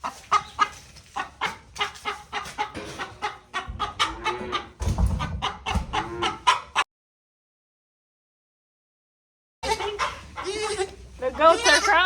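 Goats on a farm around their pens bleat and call repeatedly at close range, broken by a few seconds of silence, with a person talking throughout.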